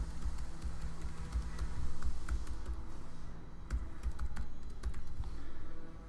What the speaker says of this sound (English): you're then going to type in khanacademy.org/coaches